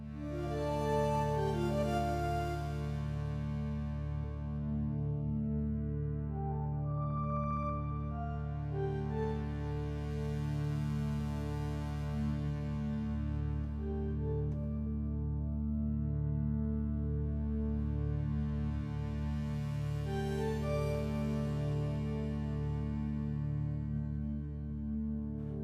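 A synthesizer patch with chorus and ping-pong delay holds sustained, layered tones, with slow sweeping swells that rise and fall three times over a steady drone, alone and without talk.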